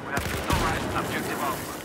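A sharp blast from a Claymore mine in Battlefield 4 goes off close and loud, followed by a short burst of rattling gunfire and a noisy tail.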